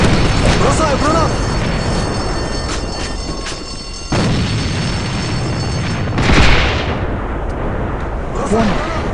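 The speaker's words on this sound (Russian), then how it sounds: "Бросаю гранату!" Heavy, booming bursts of combat noise in the online shooter game AVA, including a grenade explosion, play at close range over continuous gunfire, with short radio-style voice callouts heard in between.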